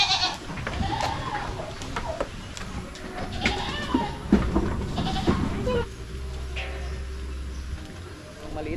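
Goats bleat in a crowded pen, repeated cries overlapping close by in a noisy farm setting, with a person talking over them.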